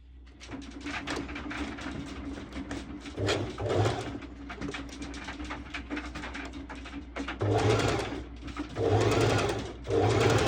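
A sewing machine runs steadily while stitching swimsuit seams, its motor humming continuously with brief surges in speed; faint cooing birds sit in the background.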